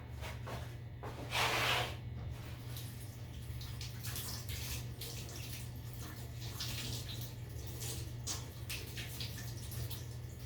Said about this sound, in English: And what I have to do first is wash my hands.